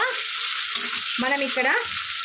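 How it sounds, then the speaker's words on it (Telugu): Onions fry in a pan for methi dal, a steady close sizzle with soft stirring scrapes running through the whole stretch and no voices. "ఆనియన్స్ కాస్త వేగాక"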